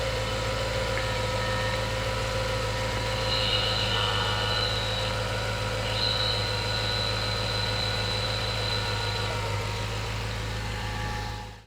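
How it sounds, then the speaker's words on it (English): Alternator noise on a Jaguar XJ8, picked up through a mechanic's stethoscope probe: a constant close-up droning hum over an idling engine, with faint high whines coming and going, steady for the whole stretch. "You can hear what it sounds like when I have the probe on the alternator and when it's off"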